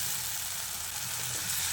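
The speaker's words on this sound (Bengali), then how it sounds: "মশলাটা কষাতে কষাতে এর মধ্যে একটা টমেটো কুচো দিয়ে দিচ্ছি।" Chopped tomato frying with turmeric and cumin spices in a pan for a vegetarian taro dish, a constant nearby sizzle with faint stirring and no voices.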